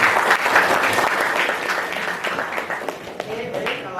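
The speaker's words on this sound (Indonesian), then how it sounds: "Tepuk tangan buat Keisha." A classroom of students claps together in a dense, steady burst of applause lasting several seconds, close and fairly loud.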